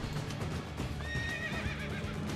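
A horse in Assassin's Creed 2 gives a clear, close whinny over a steady clatter of hooves and busy game background noise.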